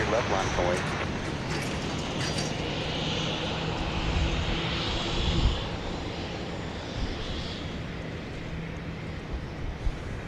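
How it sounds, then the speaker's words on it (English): A Southwest Boeing 737-700 jet takes off at Dallas Love Field, heard as a broad, sustained engine roar and rumble at a distance, steady in level throughout, with a voice talking over it. "we've got 737-700 off to St. Louis, Southwest Flight 2134"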